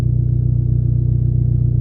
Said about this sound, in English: that gross exhaust leak you can hear roaring away